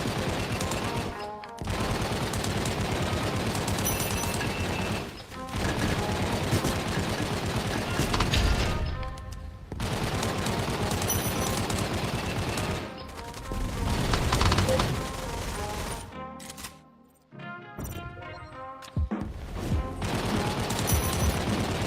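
Sniper and automatic gunfire in a shooter video game, rapid bursts and single loud shots almost continuous for the whole stretch, with brief lulls and a near-silent gap near the end before firing resumes.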